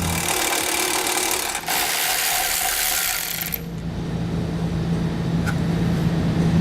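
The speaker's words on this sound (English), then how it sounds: "Located underneath them here, you'll find a bolt. We're going to remove that with a 10mm socket." A 10mm socket on a ratchet backs out a bolt beneath the horns of a vehicle getting a Roadmaster Direct-Connect base plate, with steady rapid clicking that stops partway through, leaving a quieter mechanical hum.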